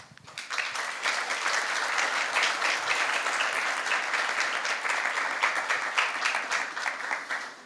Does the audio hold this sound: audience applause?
yes